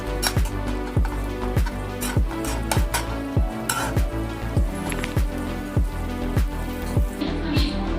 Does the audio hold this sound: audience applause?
no